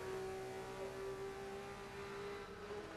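Race car engine in Forza 6 holding a steady high whine with a gradually shifting pitch, a continuous droning tone at moderate level with no voices.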